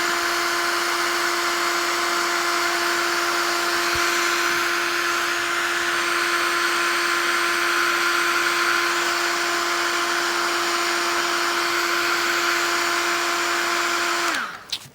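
An electric hair dryer blows in a constant, loud whirring hum with a steady tonal whine as it dries a wet Bombay ink painting, running alone for about fourteen seconds before switching off abruptly.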